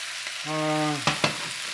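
Sherry cooking wine hits a hot pan of pork curry with a steady broadband sizzle, then two sharp scraping stirs, heard up close with no talk.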